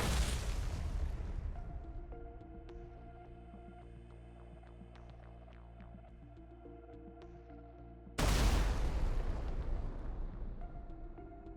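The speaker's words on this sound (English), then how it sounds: "Then the ammunition inside the equipment exploded, and a powerful explosion occurred." A heavy blast as ammunition in a military convoy explodes after a drone strike, rumbling and fading into a low hum, then a second loud explosion bursts suddenly and roars on.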